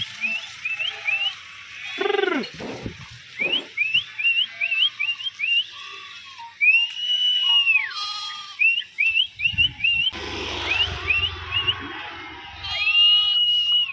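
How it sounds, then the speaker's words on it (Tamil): Sharp, repeated herder's whistles rise and fall in quick bursts, with goats bleating nearby in between and a few louder calls overlapping. "அந்த விசில் சாத்தத்தை அப்படியே இன்னொரு டைம் அடிங்க"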